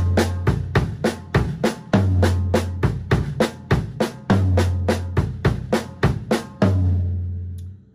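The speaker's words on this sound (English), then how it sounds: "So the original way that I learned this eight note phrase pattern is," A drum kit plays a linear eight-note phrase pattern in the Vinnie Colaiuta style, with crisp snare and cymbal hits interlocking with deep kick drum strokes in a fast, repeating syncopated rhythm that ends on a ringing final hit.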